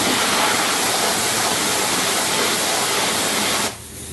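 A car wash wand on the rinse setting sprays water onto a car in a dense, loud, steady hiss up close, cutting off just before the end.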